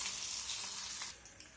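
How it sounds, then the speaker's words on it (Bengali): Pointed gourd (potol) fries in a pan with a steady, fairly quiet hiss and sizzle that eases off slightly near the end, with no voices. "এখন এই পটলগুলো অপর পাশটা ভাজার জন্য উল্টে দিতে হবে।"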